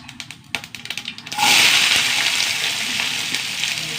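Sliced onion dropped into hot oil with mustard seeds for a potato stir-fry, a few pops and crackles first, then a sudden loud burst of sizzling that stays strong and close, no voices.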